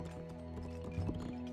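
Horse cavalry units in the real-time strategy game 0 A.D., heard as a quick run of rhythmic hoof clip-clops over steady game background tones, fairly close.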